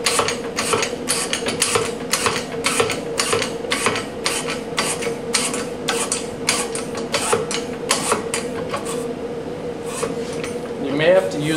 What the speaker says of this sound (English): we are going to engage the hydraulic and start pumping up